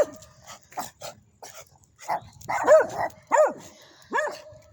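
Several dogs somewhere outside bark and yip in irregular bursts, some sharp and fairly close, others whimpering higher, with short quiet gaps between outbursts.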